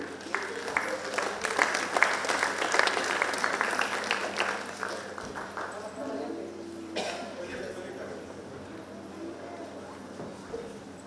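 Audience applause at a Navdurga award ceremony: dense crowd clapping that swells over the first few seconds and then thins into scattered claps, with murmuring and a little talk underneath.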